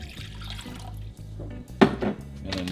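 A cup and a quarter of cold water pours into a bowl for a savory sauce mix in a home kitchen, a soft brief splash with a light clink of dishware.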